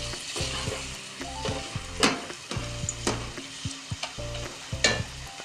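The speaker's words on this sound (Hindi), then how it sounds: "प्याज को भी हमने हल्का सा बस सॉफ्ट करना है, फ्राई करना है, हल्का सा ट्रांसपेरेंट सा करना है" Onions sizzle softly in a hot pan while a utensil stirs and scrapes them in repeated bursts, the frying hiss steady underneath the knocks, with no talking.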